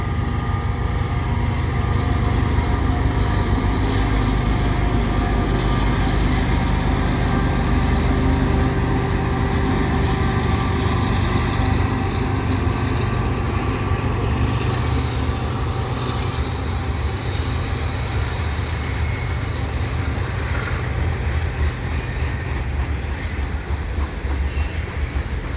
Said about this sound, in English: Oh, a second train!